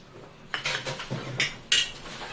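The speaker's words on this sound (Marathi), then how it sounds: "आता ह्याच्यामध्ये डाळीचं पीठ म्हणजे बेसन टाकून घ्यायचे" A utensil scrapes and clinks against a pan while radish greens are stirred with gram flour, a few distinct scraping strokes in quick succession, close and moderately loud.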